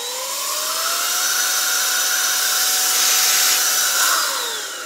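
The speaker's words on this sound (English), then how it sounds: "So I'm going to turn it on, let you hear it. Super loud." A Milwaukee M18 compact cordless blower runs continuously at close range, a loud whooshing roar with a steady motor whine that rises slightly in pitch after spin-up and dips near the end.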